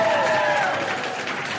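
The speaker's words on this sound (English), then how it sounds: "Give yourselves a round of applause." Audience applause at a morning live science show, a dense steady wash of clapping from a crowd with a faint voice or tone gliding through it at the start.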